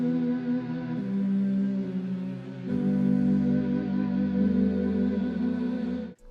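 Ambient pad built in FL Studio with a vocal-sample character, sustained and reverberant, with one smooth chord change partway and a sudden cut at the end.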